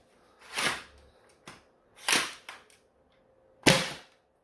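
A Shellingtonblasters Kirin bolt-action toy dart blaster fires SpongeBob foam darts: three separate sharp, close pops spaced about a second and a half apart, with faint mechanical clicks between them.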